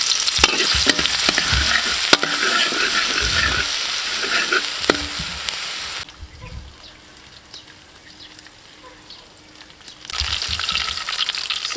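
Garlic and green onion stir-frying in hot soybean oil, a loud continuous sizzle with clattering stirring strokes, which goes quiet for a few seconds and then starts sizzling again.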